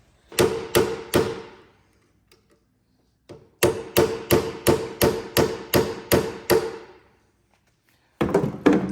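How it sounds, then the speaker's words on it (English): Sharp metallic hammer taps ring out in bursts on an old snowmobile's throttle body: three strikes, a pause, a quick run of about nine, then more rapid tapping at the end. "my hammer, and I'll tap it in there"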